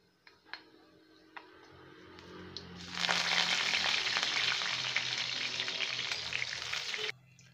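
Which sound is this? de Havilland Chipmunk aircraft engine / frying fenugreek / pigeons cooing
frying fenugreek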